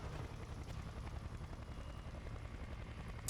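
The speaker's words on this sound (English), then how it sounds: "I forgot if the helicopter was constantly spinning or not." Helicopter rotor spinning in the video game Splinter Cell: Conviction, a steady low throbbing whir that holds at an even, fairly loud level for the whole stretch, with no voices over it.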